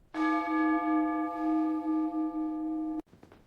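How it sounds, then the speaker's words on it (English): A single sustained bell tone with rich harmonic overtones rings steadily for about three seconds, then cuts off abruptly, followed by faint clatter. "Bell don't care what we think, it rings anyway."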